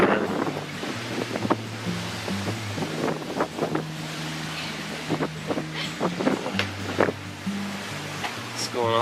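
Wind roars and waves crash around a sailboat at sea near Cape York at the tip of Australia, a constant buffeting wind noise with repeated splashes and slaps of water against the hull, close and loud.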